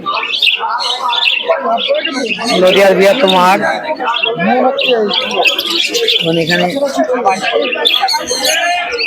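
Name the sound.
pigeons at a pigeon market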